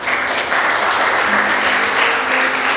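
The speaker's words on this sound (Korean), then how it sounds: "우리 하나님께 감사의 박수 드리겠습니다." A church congregation applauds in a continuous, dense wash of many hands clapping, loud and close, steady for the whole stretch with no talking.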